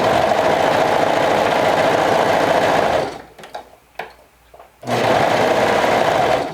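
A sewing machine runs steadily while stitching a fabric seam around a cross-stitch piece, loud and continuous, stops briefly for a few light handling clicks, then resumes at the same even drone.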